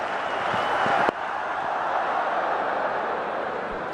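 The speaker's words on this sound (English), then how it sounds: "The buzz in the crowd." A steady crowd murmur fills a cricket ground at a New Zealand versus India Test match, a broad continuous hubbub with a brief sharp click early on.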